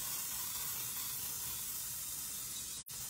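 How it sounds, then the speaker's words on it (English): A pump spritzer sprays olive oil into the bottom of a pan in one steady, soft hiss that cuts off briefly near the end. "I'm just gonna spray, this is olive oil. Just gonna spray the bottom of it."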